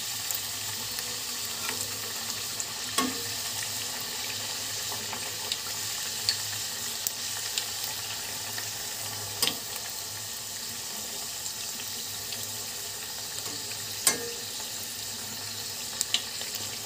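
Puris deep-fry in hot oil with a steady, even sizzle and fine bubbling hiss, broken by occasional sharp pops and clicks and no speech.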